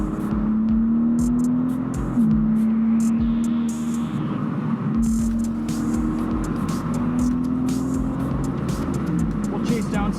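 A BMW M4 Competition xDrive convertible engine pulls hard at full throttle through a corner, giving a steady, sustained drone heard from inside the car over constant road noise, with a voice talking over it.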